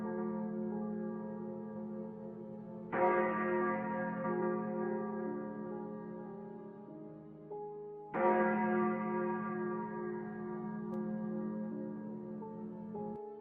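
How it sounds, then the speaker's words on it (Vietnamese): A large bell rings out in two deep, resonant strikes several seconds apart, each tolling loudly and then decaying in a long humming ring near a factory area. "Hướng chuông rất gần khu vực nhà máy"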